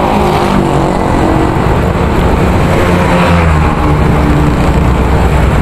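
Heavy road traffic rushes past a cyclist in a steady, loud roar of engines and tires that stays constant throughout, with no speech heard.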